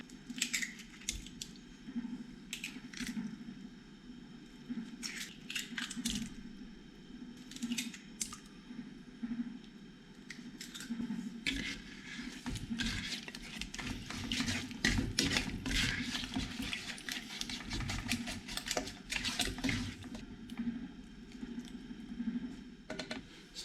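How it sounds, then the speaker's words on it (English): Eggs are beaten into a chocolate brownie mixture, producing irregular wet clicking and tapping strokes of a utensil against a bowl, steady and close with no talking. "we're going to add and beat in our 5 eggs"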